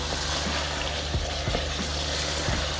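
Urad dal and chicken fry in a handi pot for a dhaba-style maash dal, giving a soft, steady sizzle with a few faint stirring clicks, at moderate level and with no speech.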